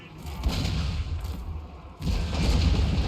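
Cannons in the Total War: Warhammer battle boom in a dense, continuous barrage, one heavy rolling blast running into the next with little pause.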